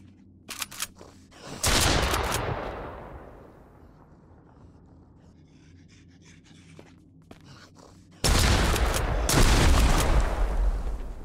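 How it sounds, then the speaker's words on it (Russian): Two loud, sudden blasts of explosive noise with crackling gunfire, separated by a quieter stretch of rumbling and scattered shots, from a battle scene in the video game Mist Survival. "Вот это взрыв был."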